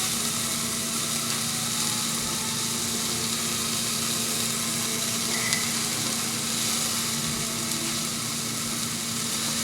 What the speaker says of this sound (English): you just want to fry this up till the sausage is done, Mexican sausage